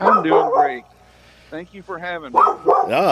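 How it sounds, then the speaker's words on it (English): Someone talks while a dog barks and yips excitedly nearby, its short barks mixing with the speech. "Sorry about my dog. He gets excited."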